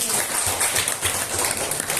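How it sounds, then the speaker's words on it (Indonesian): Students in a mathematics classroom give a short burst of applause, a dense round of clapping filling the brief moment with some background voices. "kita berikan tepuk tangan"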